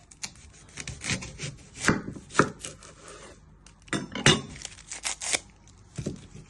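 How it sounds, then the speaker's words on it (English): Kitchen knife chopping the end off an onion on a cutting board: a quiet, close series of irregular thuds and slices, about a dozen cuts with short pauses between. "You first want to chop your end off."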